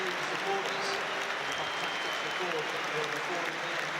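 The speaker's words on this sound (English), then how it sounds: "he certainly deserves every round of applause he's getting" Sustained applause from a Premier League stadium crowd at Newcastle United versus Tottenham Hotspur greets a substituted player, a dense, even roar of clapping with a voice talking over it.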